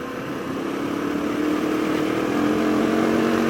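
An adventure motorcycle on a bald knobby tyre pulls hard while riding, its mid-pitched engine note steady and rising slightly as it accelerates, with constant wind and road roar throughout.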